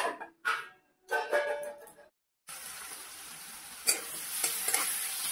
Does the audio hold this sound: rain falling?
no